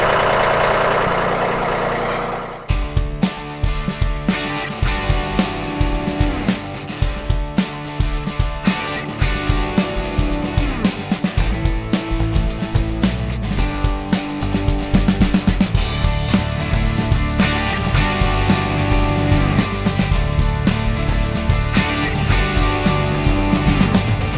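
A Mahindra 1635 tractor runs below full throttle while working a backhoe on a French drain dig, its diesel engine a close, steady drone broken by frequent clanks and knocks from the machinery.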